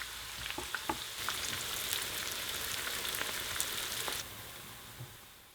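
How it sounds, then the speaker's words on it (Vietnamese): Sliced onions drop into hot cooking oil in a pot over high heat and fry with a steady, close hiss and crackle for several seconds, then quieten to a softer sizzle. "đợi cho dầu sôi thì bỏ hành tây vào"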